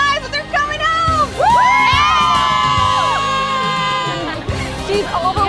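Large crowd at the USS John C. Stennis homecoming cheering, whooping and shouting loudly, with high children's voices and excited talk running continuously throughout.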